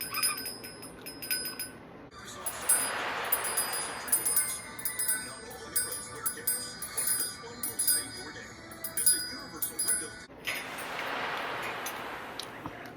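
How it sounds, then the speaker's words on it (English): Small bell rung in bursts, first around two to four seconds then again near the end, over steady background noise and faint high ringing tones; no speech. "Hear Jake ring the bell? He wants some."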